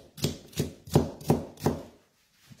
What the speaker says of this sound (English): we cut them into thin slices, which is about the size of the bits of spring onion